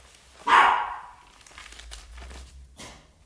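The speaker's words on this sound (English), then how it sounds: "guaranteed when I start recording any video, my dogs absolutely start losing the shit" A dog gives one loud, sharp bark near the microphone, followed by fainter scuffling and rustling sounds and a second, quieter bark or yelp toward the end.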